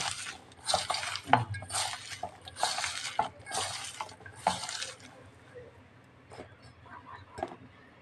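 Onions and spices for a Mughlai paratha filling sautéing until soft in a pan, with a spatula scraping and clattering against the metal in repeated bursts over a faint background sizzle, the clatter easing off toward the end.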